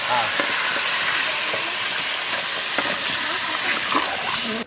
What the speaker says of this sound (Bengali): আমি দিয়ে দিলাম জল।